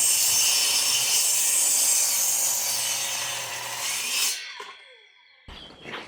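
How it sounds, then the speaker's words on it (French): A chainsaw cuts back overhanging timber on a roof overhang under construction, a loud, steady, rasping cut running for about four seconds before stopping abruptly, followed by brief quieter knocks. "Je vais mettre un coup de tronçonneuse pour recouper ce qui dépasse actuellement là."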